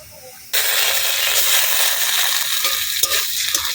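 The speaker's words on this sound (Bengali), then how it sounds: "একটু নাড়িয়ে নেবো ভালো করে।" Onions browned with ginger-garlic paste sizzle loudly and steadily in a pan of hot oil for an egg curry, the frying hiss starting abruptly and carrying on with a few light scraping knocks of stirring near the end.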